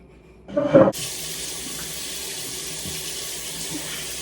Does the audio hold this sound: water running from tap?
yes